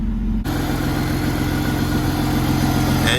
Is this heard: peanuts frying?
no